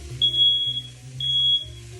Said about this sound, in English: Kind of a temperamental fire alarm there.